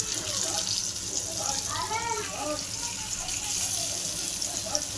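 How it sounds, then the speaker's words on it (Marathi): Stuffed bitter gourd (karela) frying in hot oil on a pan, giving a continuous watery sizzle and hiss at moderate level, while a person speaks over it. "कारलं तळायला टाकलं, हे कारलं जरा पण कडू होणार नाही।"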